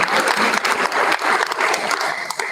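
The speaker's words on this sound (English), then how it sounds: "Let's have another round of applause." Dense audience applause at a school board meeting fills the whole stretch, steady and close with many hands clapping at once, no talking over it.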